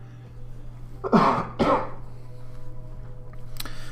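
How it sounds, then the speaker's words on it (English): A person clears their throat and then gives a short cough, close by, against a low steady hum. "I apologize for the throat clearing or the occasional cough"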